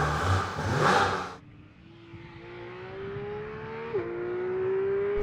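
Porsche 911 GT3 with PDK gearbox on track at Anglesey: a loud burst of engine noise, then a rising engine note that climbs steadily, briefly dips at a gearshift, and climbs again, heard alone.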